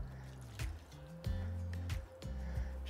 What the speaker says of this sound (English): to this mixture, I'm gonna add about 2 cups of water